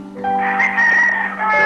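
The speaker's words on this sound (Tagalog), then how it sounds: "Ay, yung manok." A rooster crows loudly and close, one long drawn-out call with a strained, tonal ending.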